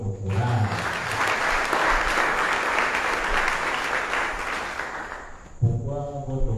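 Sustained congregational applause at a Catholic mass in Yaoundé, a steady crowd of clapping hands that rises and lingers for several seconds, with a speaking voice heard briefly before and after.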